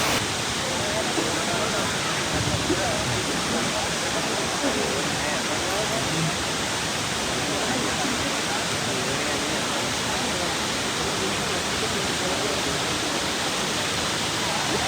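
A waterfall in Ella, Sri Lanka, running at fairly low flow, gives a steady, dense roar of falling water that holds evenly without a break throughout.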